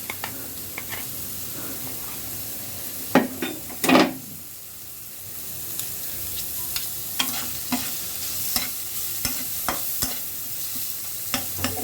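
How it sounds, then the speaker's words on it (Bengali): Puffed rice with chopped onion frying in ghee in a pan, a steady sizzle with repeated scraping stirs and spoon knocks against the metal, a couple louder clatters early on. "আমরা সম্পূর্ণটা ঘি দিয়ে ভাজবো"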